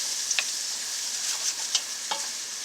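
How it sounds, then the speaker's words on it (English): Unsalted margarine sizzles steadily in a hot pot for soup, a continuous bright hiss with a few soft spoon clinks, close and alone without talk. "so I'm just going to throw a tablespoon of margarine in"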